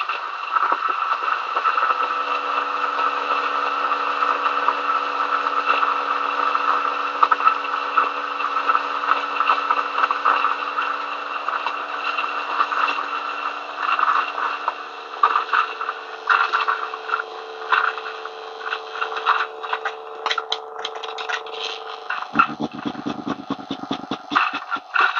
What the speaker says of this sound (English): Okay, there's still some beans grinding.